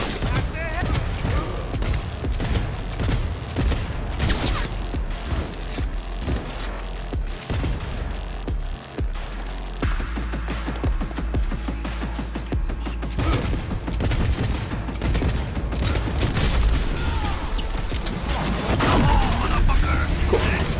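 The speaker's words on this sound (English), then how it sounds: "this pistol does around 150 DPS, but it's taking a while to take these guys out" Pistol gunfire in the video game Cyberpunk 2077 crackles in rapid, dense volleys through a heist shootout, loud and continuous with booms and mechanical clatter, while a voice talks over the action.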